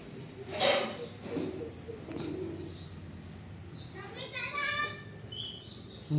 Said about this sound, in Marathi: पक्ष्याचा आवाज आणि मी लावलेलं झाड आंब्याचं